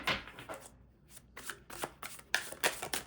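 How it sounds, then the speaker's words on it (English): A tarot card deck is shuffled by hand in quick, soft riffling bursts and flicks, close and quiet, with short pauses between them. "I think they still want to be shuffled a little bit more."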